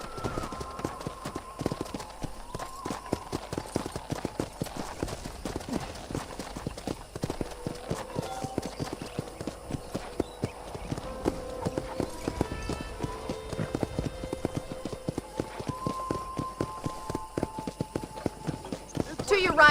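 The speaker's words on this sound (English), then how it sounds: "let's see if you can still ride a horse" Horse hooves clip-clop in a steady walking rhythm while riding on a ranch in a video game, close and continuous, with a voice talking over the hoofbeats and an occasional whinny.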